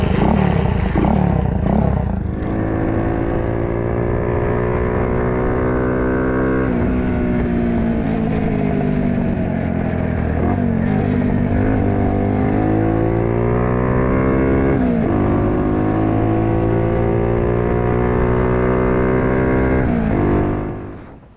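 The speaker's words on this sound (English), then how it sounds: "So how does it ride? This is how it rides. Key on, kickstart, stand up, in gear, find neutral," Vintage Suzuki FR50 small motorcycle: after an opening clatter from the kickstart, the small engine catches and runs loud and close, revving up and down repeatedly as it is ridden, then cuts off abruptly.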